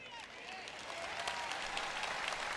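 An audience claps together in an auditorium during a Christian sermon, producing a broad, steady wash of applause that holds at one level, with faint tonal traces of voices or music in the background.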